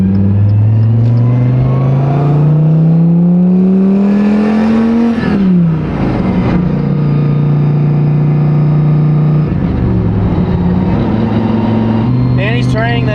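While people talk nearby, a car engine revs hard during a Texas car-shopping visit, climbing steadily in pitch, snapping back, then settling into a loud steady drone with further throttle blips.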